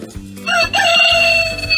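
A rooster crow alarm sound from a desktop talking clock plays once, loud and close, a drawn-out cock-a-doodle-doo with a slightly electronic, tinny tone.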